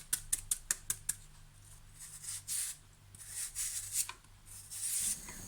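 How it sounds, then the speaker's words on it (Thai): A knife chops green papaya for som tam, starting with six quick, sharp, evenly spaced chops up close, followed by softer scraping and rubbing sounds. "ใช้มีดสับดีกว่านะคะ"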